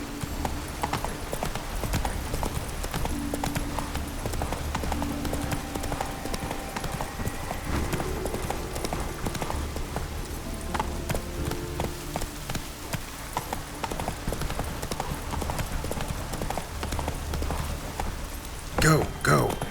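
Horse hooves clip-clop steadily as a rider travels in The Witcher 3, a rhythmic close clatter running throughout with a brief louder burst near the end and voices speaking at times.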